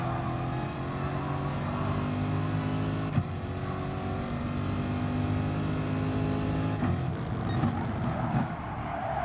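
Race car engines in the Gran Turismo Sport racing game, a steady loud multi-car roar with rising and falling revs and shifting harmonics throughout an online multiplayer race.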